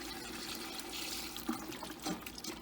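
Chicken broth poured from a carton into a cooking pot, a steady soft liquid trickle and splash with a couple of brief louder glugs, close and alone.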